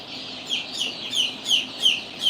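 Baby chicks and chickens cluck and peep in a steady run of close, bright calls that rise and fall about every third of a second, with no other sound around them.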